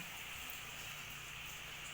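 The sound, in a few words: rain falling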